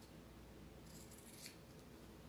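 Scissors snip notches in fabric for a handmade reversible basket, a few quick crisp cuts, faint and close over steady room hiss.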